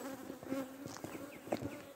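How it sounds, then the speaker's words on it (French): Honeybees buzzing close around beekeepers working the hives, with a dense, wavering drone and several individual insects zipping past the ear in quick, loud passes. "on attend qu'il n'y ait plus d'abeilles qui nous tournent autour"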